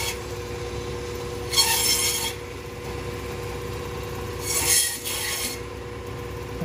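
A supermarket meat saw cuts through beef bone, giving two separate bursts of loud rasping, one around the middle and one near the end, over a steady machine hum.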